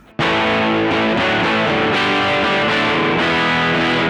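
An electric guitar through a Bogner Ecstasy Blue overdrive pedal on the B2 setting chugs through a loud, crunchy chord riff with steady rhythmic accents, close and continuous without any talking.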